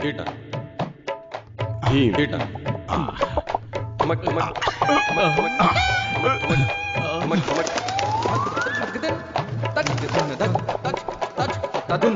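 Cartoon chickens cluck and a rooster crows in a busy comedy scene from Motu Patlu, the birds loud and close amid overlapping voices, music and effects.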